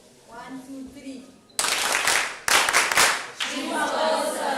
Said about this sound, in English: Can we give her a better clap, please?